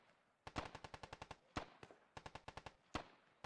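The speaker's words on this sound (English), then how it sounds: "Barton is still shooting" Automatic gunfire in the Squad video game, three distinct bursts of rapid, evenly spaced shots, each led by a louder crack, crisp and fairly close with short echoing tails and no voices.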